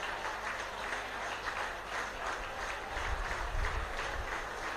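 A crowd at a football match applauding in tribute, a steady, moderately distant wash of clapping that stays even throughout, with faint low rumbles.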